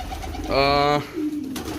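A pigeon gives a single soft, throaty coo, close by, with faint background noise around it.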